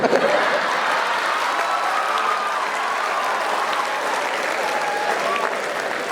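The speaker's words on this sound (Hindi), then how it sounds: "आप ताली बजाते" An audience at a comedy show claps continuously, loud and sustained, with a faint murmur of voices mixed into the clapping.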